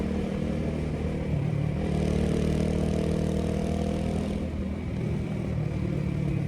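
A motorbike engine while riding, a steady mid-pitched drone with rushing road and wind noise, close and continuous.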